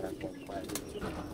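Pigeons cooing softly while being fed, low murmuring coos close by with faint background voices.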